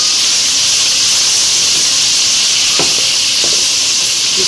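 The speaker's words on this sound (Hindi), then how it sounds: "उसके बाद ये प्याज डाल देंगे इसमें" Onions hitting several spoonfuls of hot oil in a pan, a loud, steady hissing sizzle up close, with a few brief scrapes of stirring near the end and no talking.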